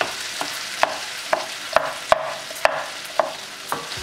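Okra sautéing in a pan over a low flame, a steady soft sizzle broken by sharp spatula clicks and scrapes against the pan every half second or so, close and fairly loud, with no voices.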